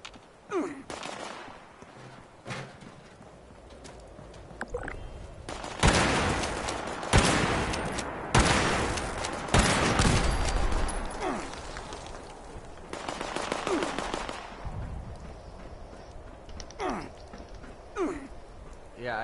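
Video-game gunfire in Fallout 76: bursts of rapid automatic shots and single cracks, loud and close in the middle, with quieter intermittent shots around them and players talking over the action.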